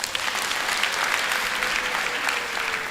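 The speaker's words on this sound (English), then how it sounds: "I think they deserve a big round of applause" A large audience at a university's autumn graduation ceremony claps in a sustained, dense round of applause that stays steady and fairly loud throughout.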